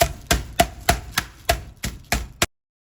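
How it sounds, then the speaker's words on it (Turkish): Repeated sharp thuds of a hard object pounding food on a kitchen surface, about eight evenly spaced hits close up, then it stops. "Ezeceğiniz varsa ezecekle yoksa da benim gibi sert bir eşyayla ezebilirsiniz"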